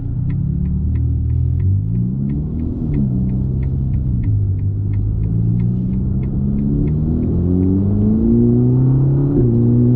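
Ferrari Roma V8 drones steadily from inside the cabin while driving, a deep rumbling engine note that gently rises and falls in pitch under light throttle, with a faint regular ticking above it.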